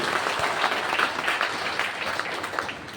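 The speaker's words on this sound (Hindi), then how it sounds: "इस संबंध में आपकी जोरदार तालियां होनी चाहिए" An audience at a large community meeting in Bhagalpur breaking into loud applause, a dense, steady burst of many people clapping together that slowly eases off, with no talking.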